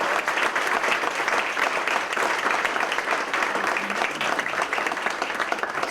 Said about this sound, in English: Please give a round of applause to the administrative assistants for the Global Studies Division in the back